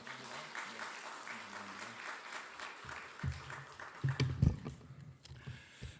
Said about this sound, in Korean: 우리 하나님께 영광의 박수 올려드리고 우리 강사 목사님 맞이하도록